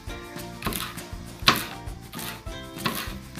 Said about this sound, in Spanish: Yo los pico así, delgaditos,